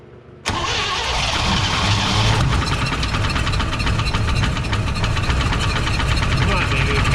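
A 1967 Chevrolet C10 farm truck engine, abandoned for 16 years, cranks and catches abruptly, then runs loud and rough with a steady clattering knock from the bottom end.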